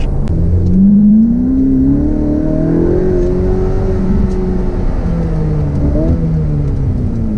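A Ferrari F8 Spider's engine accelerates loudly and close, its rising roar climbing in pitch, dipping briefly at a gear change, then pulling up again before easing near the end.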